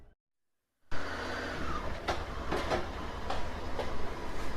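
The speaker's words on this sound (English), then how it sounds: "Oh, this is a train." Inside a train travelling in Budapest, a steady loud rumble fills the carriage after a short silence, with occasional sharp knocks and clacks from the rails and wagon.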